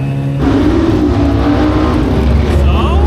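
A motorcycle accelerates at speed with a loud, close engine roar that kicks in after a short lower drone and holds steady, rising in pitch toward the end.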